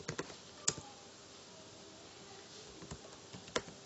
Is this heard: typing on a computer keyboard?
yes